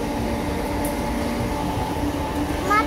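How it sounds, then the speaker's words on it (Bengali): Steady rumble of the Rampurhat Express just after leaving the station, heard from inside a nearly empty coach: a continuous droning roll with faint clicks and squeals and no talking. "সবে মাত্র ট্রেনটা ছাড়লো"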